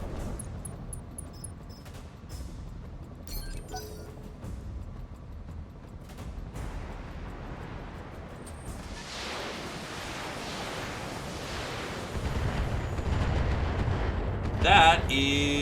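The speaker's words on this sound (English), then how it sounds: "That is mortars, I think." Mortar fire in a tabletop war game session, a few dull thumps early, then a swelling rumble of distant blasts building louder toward the end, rolling and surf-like.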